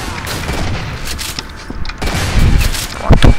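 Shotgun gunfire in the video game Uberstrike, a dense run of booming blasts and rapid shots, loud and continuous, with heavier bangs near the end.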